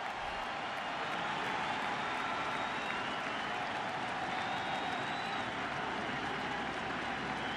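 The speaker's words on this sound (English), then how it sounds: "Crowd trying to rally behind Tomlin." Crowd noise at a 2016 World Series baseball game, Cubs vs Indians Game 6, as fans rally behind pitcher Tomlin: a steady, distant wash of cheering and applause holding at an even level throughout.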